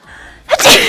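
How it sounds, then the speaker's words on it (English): One sharp, loud sneeze bursts out close by after a moment of quiet, with a quick breathy intake leading into it. "I just sneeze."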